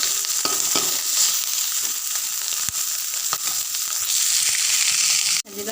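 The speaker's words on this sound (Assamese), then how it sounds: "পিঁয়াজখিনি ভালকৈ লৰাই ল'ম" Onions sizzling and frying in a pan for a fish curry, steady hot crackle with occasional scrapes and clinks of stirring, close and continuous.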